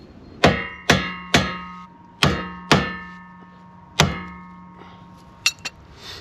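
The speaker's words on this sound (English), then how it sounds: "we're going to take our hammer and we're going to hammer the dust cap off of the hub" Sharp hammer blows strike the metal dust cap on a boat trailer wheel hub, six ringing clangs at uneven intervals, then two lighter taps, each close and loud with a short metallic ring.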